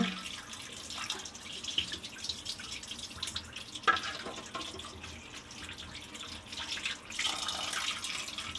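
Cleaned anchovy fish are rinsed in water, with a close, continuous splashing and trickling of water and a few sharper drips and sloshes, with no talking.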